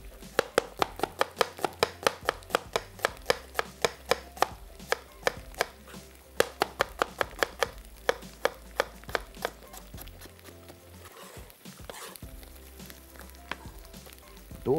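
Onion for a vegetable dish being chopped with a knife on a board, rapid regular thuds in quick bursts with brief pauses, up close, over a faint sizzle of something frying in the background and no talking.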